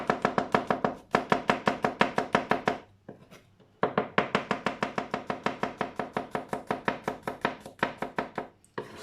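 Rapid, steady knife chopping of garlic on a board for a Thai green curry, dozens of close, crisp strikes in quick runs with a short pause midway, no voices.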